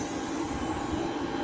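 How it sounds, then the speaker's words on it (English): A 4000 class train rolls past on the railway with a steady, dense roar of wheels and rail noise that holds at an even level throughout, with no break and no voices. "Yeah, there's a 4000 class train"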